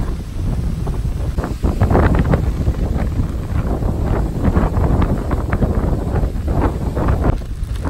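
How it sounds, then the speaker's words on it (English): Strong gusting wind around 30 to 40 knots with cold rain buffets the microphone in a continuous loud rumbling roar on a Camino de Santiago walk, surging and easing without pause, with no talking. "Wind and the rain picked up."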